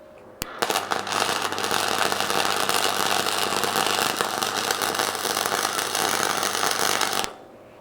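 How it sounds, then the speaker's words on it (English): A Sealey MightyMig 100A no-gas MIG welder set on minimum welds with a loud, continuous crackling buzz that starts abruptly and stops after about seven seconds. "Yep, it's definitely welding."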